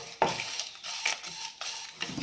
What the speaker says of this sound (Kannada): ಇದನ್ನು 1 ನಿಮಿಷ ಫ್ರೈ ಮಾಡ್ಕೋಬೇಕು. ಕೊಬ್ಬರಿ ಸ್ವಲ್ಪ ಕಲರ್ ಚೇಂಜ್ ಆಗಬೇಕು.